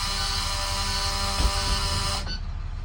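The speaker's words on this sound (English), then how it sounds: "Buzzer works properly." A school bus emergency door buzzer drones loudly and continuously for a few seconds, then cuts off with a brief click, leaving a softer hum.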